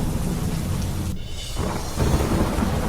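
Heavy monsoon rain pours steadily in Vadgam, Banaskantha, a dense loud hiss that dips briefly before a low rumble of thunder swells under the downpour.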